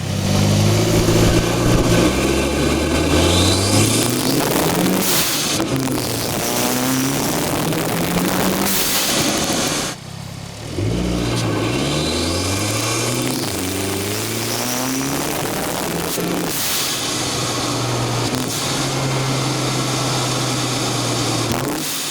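A Hyundai i30 N engine revs and accelerates through gears while driving, with sharp whooshing bursts of a turbo blow-off valve between pulls; close, loud, no talking.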